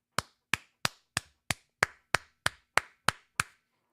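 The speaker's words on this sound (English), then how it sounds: "do the old clapping sound for old time's sake" Eleven sharp, evenly spaced clapping hits ring out alone at a steady rhythm, each crisp and percussive with a short decay, fairly close and clean with no talk.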